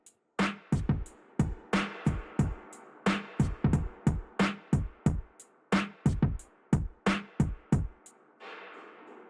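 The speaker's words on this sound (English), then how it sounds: "And reverb sounds like this." Distorted drum loop in Soundtrap drenched in full reverb, a steady pattern of punchy hits each trailing into a washy tail, ending on a brief lingering swell, with no voices.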